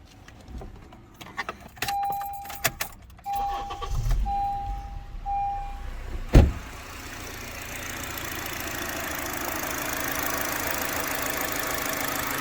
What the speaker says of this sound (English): We'll come in and we'll start the car.